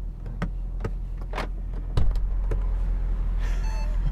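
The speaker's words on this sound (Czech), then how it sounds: "měl jsem prostě nutkání otevřít svoje dveře" A series of clicks and a solid latch clunk, then a whirring mechanical sound as a Mercedes SLS door is opened over a low engine hum.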